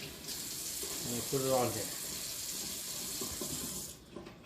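Cold water runs from a tap in a kitchen while deer jerky is being prepared, a steady close hiss that continues for about four seconds under a brief spoken remark, then cuts off.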